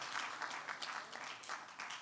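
Applause from a graduation and awards conference audience, a moderate burst of clapping heard from some distance, fairly even and continuous over a couple of seconds.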